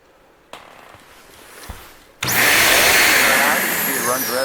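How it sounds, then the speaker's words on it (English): A central vacuum system built in underneath a kitchen island switches on partway through, a loud, steady broadband whoosh and whine that holds after a couple of quieter knocks and clicks. "Underneath your island, here's your vacuum system."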